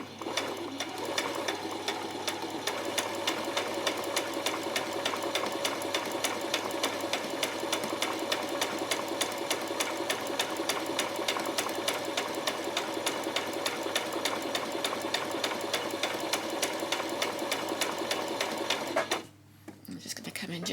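A sewing machine runs a long, steady gathering stitch along the edge of a skirt, humming continuously at close range for most of the stretch before briefly cutting out near the end and starting again.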